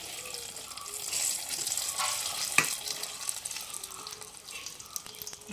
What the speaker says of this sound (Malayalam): ഞാൻ ഇനി വറവിടുകയാണ് വെളിച്ചെണ്ണ കടുക് വറ്റൽമുളക് ഇതെല്ലാം കൂടെ അങ്ങോട്ട് ഇട്ട് കൊടുക്കാം